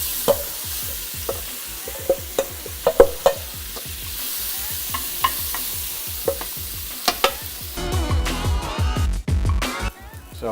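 Onions sautéing in a hot pan with pork dumpling filling nearby, scraped and stirred in a steady rhythm of sharp utensil clicks over a soft sizzle, then a louder, denser sizzle and clatter near the end.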